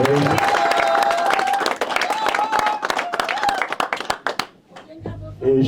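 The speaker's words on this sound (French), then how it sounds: "Applaudissements encore une fois" Audience applause at a French-speaking militant gathering honouring a party matriarch, with dense clapping and a tonal voice or music over it for several seconds, thinning out before someone speaks near the end.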